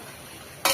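A spiced Bengali dish is stirred in a pan. After a near-silent stretch, a loud burst of sizzling and scraping rises abruptly in the final moments.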